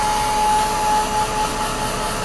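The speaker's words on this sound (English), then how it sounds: "Hair dryer." A hair dryer blows close by in a steady, loud whir while mixed media art dries, running continuously without any talk.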